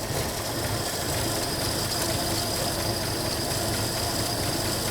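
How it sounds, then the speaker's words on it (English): A 1984 Ford F150 pickup truck engine idles steadily nearby on gas poured into the carburetor bowl, a continuous low rumble with a faint mechanical knock and no voices. "It's just idling with what gas I put in the bowl."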